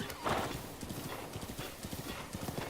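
Rhythmic hoofbeats of a horse galloping in the video game Zelda: Breath of the Wild (Switch 2 Edition), steady and moderately loud, with a brief whinny near the start.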